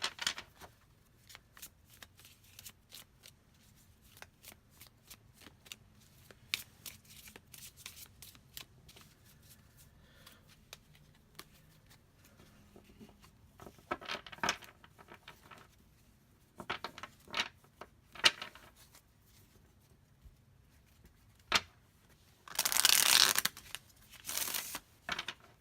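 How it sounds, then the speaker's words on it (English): Playing cards are shuffled in short riffling bursts with quiet pauses between, close and crisp, ending in a louder, longer riffle. "let me shuffle the cards"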